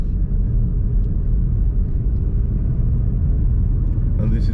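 Car engine pulling up a slight hill in low gear, a loud, continuous, close rumble with heavy low-end drone and a brief brighter noise at the end.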